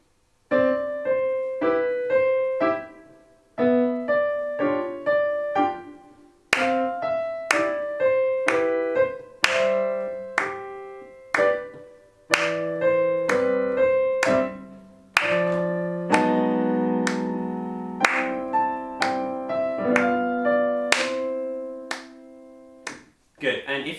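Sharp hand claps in steady time alongside piano playing during a piano exam prep test, crisp and close, recurring every bar while the melody moves beneath.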